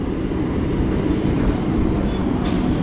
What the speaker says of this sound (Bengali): এখানে ট্রেন আছে, সেটা চলে যাবে রানাঘাট মেবি